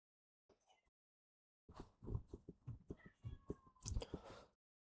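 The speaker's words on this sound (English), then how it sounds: "Do apologise if you can hear my cat just does not shut up." A pet cat meows repeatedly and insistently indoors, a quick run of close, fairly faint cries after a short opening chirp, with no talking over it.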